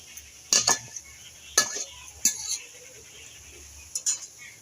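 A lid goes onto a pan of drumstick leaves (sajne shak) cooking in a home kitchen, with a few separate metallic clanks and clinks spaced a second or more apart over a quiet background.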